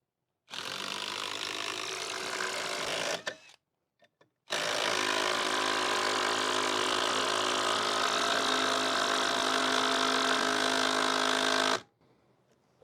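A Hyper Tough 12 volt impact driver drives a long timber screw into wood. A short burst of hammering whir is followed by a pause, then a long, steady, loud impacting drone that stops abruptly.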